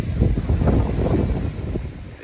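Strong wind buffets the microphone in stormy weather by the sea, a dense low roar with rough gusts, and crashing surf is blended into the noise.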